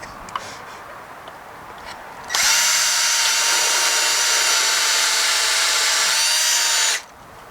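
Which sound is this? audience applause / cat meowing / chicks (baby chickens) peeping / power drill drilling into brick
power drill drilling into brick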